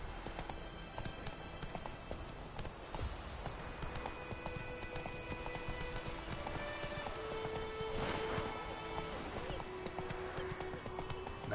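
Roach the horse galloping in the video game The Witcher 3, with steady rhythmic hoofbeats clip-clopping under spoken conversation and game music.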